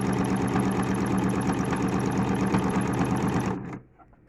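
A sewing machine stitches folded fabric to trim a face towel, a close, steady rapid needle chatter and motor hum that stops abruptly near the end, leaving near silence.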